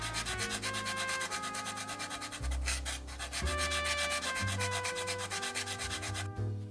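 Wet sanding of acrylic putty on a 1/32 Italeri F-104A model with a little water, heard as a soft, steady rubbing under continuous background music that runs through the whole stretch.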